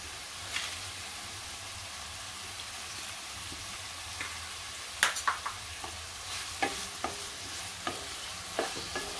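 Pineapple for sheera sautés in ghee with sugar under a soft, constant sizzle, while a spoon scrapes and taps the pan in scattered clicks that grow more frequent toward the end.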